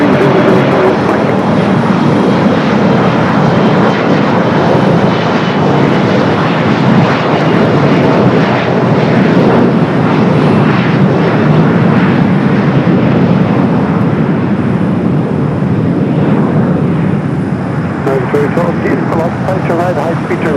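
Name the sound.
Boeing 747 jet taxiing at LAX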